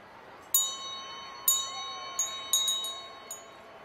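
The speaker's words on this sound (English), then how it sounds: "A bell." Bright chiming bell strikes in the PC game I Spy: Fun House, several clear dings at uneven intervals, each ringing briefly and decaying, heard alone without talk.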